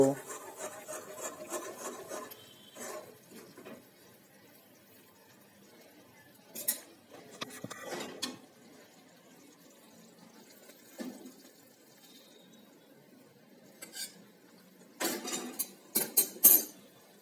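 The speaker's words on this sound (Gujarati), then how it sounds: "ગોળ અને ઘી મિક્સ થઈ ગયું છે તો ચાલો હવે તેને આપણા ચૂરમાની અંદર ઉમેરી દઈશું" Jaggery and ghee being mixed into churma for churma laddu with a utensil, heard as intermittent rubbing, scraping strokes against a vessel with quiet gaps between bursts and a cluster of sharper scrapes at the end, close and without talk.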